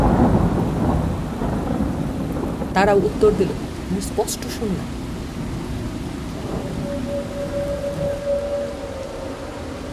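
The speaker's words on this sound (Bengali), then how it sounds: "প্রচন্ড বৃষ্টি তখন।" Thunderstorm with heavy rain as a horror story effect, a dense steady downpour with rumbling thunder under a voice telling the story.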